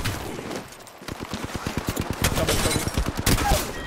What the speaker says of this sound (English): Spitfire does not stop.